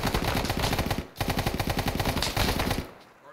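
An M14 rifle blasting on full auto in a military shooter game, with loud, rapid continuous bursts and a brief gap after the first second.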